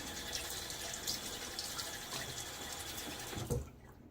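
Tap water runs steadily into a bathroom sink during a wet shave with a Wolfman WR1 razor and Gillette Nacet blade, a continuous close hiss and splash that cuts off near the end, leaving a faint room tone.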